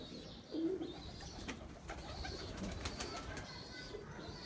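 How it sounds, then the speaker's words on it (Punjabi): Large pigeons coo on a rooftop loft, a few soft low coos near the start and middle over a faint outdoor background with scattered chirps. "ਇਹ ਸਲਾਰੇ ਕਬੂਤਰ ਨੇ ਵੱਡੇ।"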